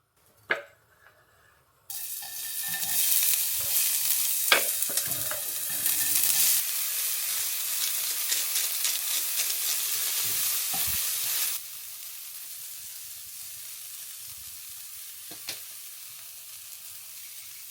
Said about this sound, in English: That means it's hot enough for the oil and the onions to go in.